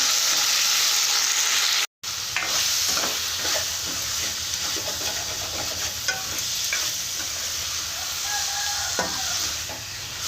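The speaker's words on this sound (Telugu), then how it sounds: "ముక్కలు చేసి వేసుకున్నాము ఇవి మెత్తగా ఉడికిపోవాలి టమాటాలు" Tomato pieces sizzle and fry steadily in a pan while cooking for a mango and dried-fish curry, a continuous close crackle with a brief drop-out near the start and soft stirring scrapes.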